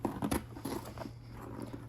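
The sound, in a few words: sewing scissors cutting car seat fabric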